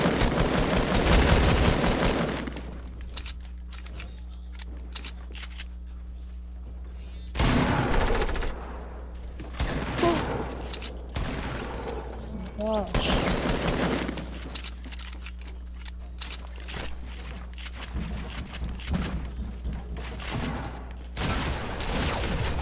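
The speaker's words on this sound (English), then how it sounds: "Dude, I thought you were shooting me through my walls." Rapid bursts of video game gunfire from a shooting match, loud clustered volleys at the start, then repeated sustained firing after a pause, with a steady low hum running underneath throughout.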